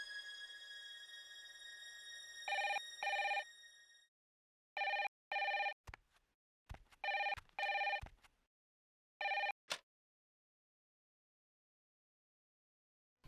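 A telephone rings in short electronic bursts, several pairs of bright trilling tones separated by pauses, with clicks and silence after the ringing stops.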